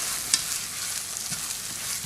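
Beaten eggs poured over rice in a hot pan for Cantonese fried rice hiss with a steady bright sizzle, with faint scraping and one sharp clink of the utensil as everything is quickly mixed.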